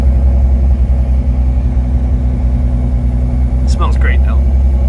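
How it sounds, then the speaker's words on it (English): A 1993 Mazda 323 with a swapped 2.5 V6 KLZE engine idles while running rich, a loud, steady low rumble with an even exhaust pulse and a brief higher mechanical chirp near the end. "I think it's too much fuel, it's running really rich"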